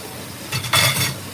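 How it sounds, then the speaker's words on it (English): Meat sears in a hot pan over a gas flame, a short burst of sizzling hiss that swells briefly and then eases, close and fairly loud with no talking. "after I sear it on this side"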